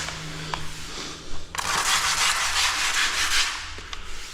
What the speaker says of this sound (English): Just a bit more wiping off.